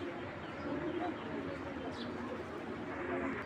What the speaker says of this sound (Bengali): কবুতরটা দেখেন কি পরিমাণ ছটফট করতেছে